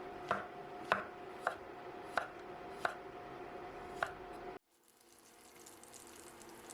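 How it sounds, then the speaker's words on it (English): Knife chopping white mushrooms and garlic cloves on a cutting board, six evenly spaced sharp taps against steady kitchen background noise, then the taps stop abruptly and only a quieter hiss remains. "Slice the white mushroom and cloves of garlic too."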